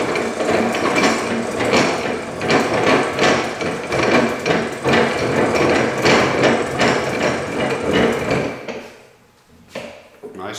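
A bench vise on a workbench is cranked closed and tightened with loud, continuous metallic clanking and knocking for about nine seconds, ending in a few quieter clicks.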